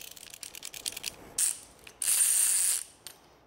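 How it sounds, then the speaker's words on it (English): A compact ratcheting chain hoist cranked as part of a drill press table lift, giving a run of quick clicking ratchet pawl bursts, then a longer, louder rasping ratchet stretch and a final short click, close and alone. "then you start to crank it"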